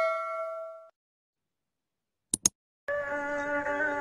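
A bright bell-like ding rings out, then silence broken by two quick clicks, followed by another sustained metallic chime that lingers.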